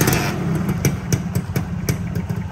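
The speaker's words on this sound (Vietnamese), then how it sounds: "để em nổ vô cho anh em nổ máy cho anh em nghe nha" A Suzuki Satria (Xipo) 2000 motorcycle engine fires up close by and settles into a lumpy idle, with regular popping beats from the exhaust.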